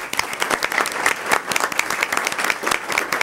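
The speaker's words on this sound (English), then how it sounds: "Let's have another round of applause for" Audience at an Osceola school district board meeting giving a round of applause, loud dense clapping from many people sustained throughout a few seconds.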